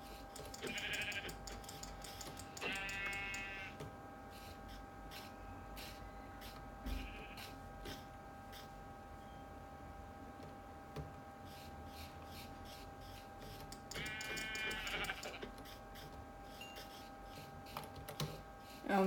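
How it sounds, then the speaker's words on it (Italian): Sheep bleat in a video game zoo or campsite setting, a few short wavering calls at the start and another pair later, moderately loud over a quiet backdrop of faint clicking and soft game ambience. "Altre due pecore."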